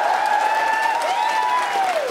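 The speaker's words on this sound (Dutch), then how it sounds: "Mag ik een hartelijk applaus voor Jens en Emma?" An audience applauds at a live year-end comedy show in the Melkweg venue, a steady wash of clapping overlaid by rising and falling whistles or whoops from the crowd.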